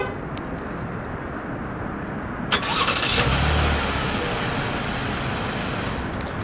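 A 2018 Buick Enclave's 3.6 L V6 is started remotely: steady background hiss, then a sudden crank and catch partway through, settling into a low, even idle that continues to the end.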